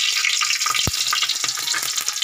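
Garlic sizzles steadily in hot oil in a pan for ginisang talong, a close, continuous bright frying hiss broken by the soft scrape and clink of stirring.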